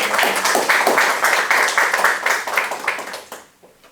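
Lecture audience applauds after a master talk on civil service professionalisation, dense steady clapping from a room of listeners that fades out over a few seconds.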